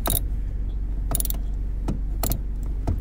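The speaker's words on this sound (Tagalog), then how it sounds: "unti-unti po ninyong higpitan yung nut" Ratcheting socket wrench on a 10mm handbrake adjuster nut of a 2006 Nissan Tiida, four short close clicking bursts at regular intervals over a steady low hum.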